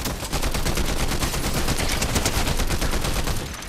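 Rapid automatic gunfire in a first-person shooter, a dense sustained burst of shots that runs loud and close for several seconds before tapering at the end.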